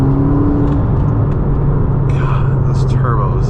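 A Ferrari SF90 supercar engine revs with its turbos spooling, a steady loud rumble and whir running throughout, with a rising whistle near the end and voices talking over it.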